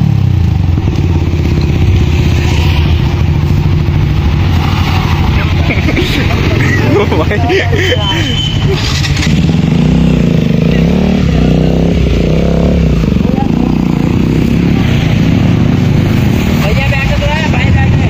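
A Kawasaki Ninja ZX-10R sports bike engine roars loudly and steadily throughout, with revving swells and mechanical clatter, and people talking over it in places.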